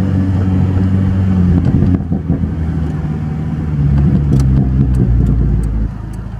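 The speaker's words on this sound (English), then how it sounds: "So you don't know what exhaust you have in it because it sounds pretty nice" Exhaust of a 2000 VW Jetta 2.0 wagon while driving, a loud, steady low engine drone that dips briefly, swells again as it accelerates, then drops off near the end.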